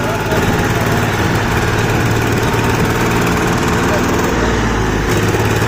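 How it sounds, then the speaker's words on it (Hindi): The engine of a Powertrac 439 tractor, pulling an overloaded trolley and misfiring on low diesel, drones loudly and close without a break, holding a rough, strained pitch as it struggles to rev. "देखो भाई ये ट्रैक्टर हवा ले चुका है, पावर ट्रैक रेस नहीं पकड़ रहा है।"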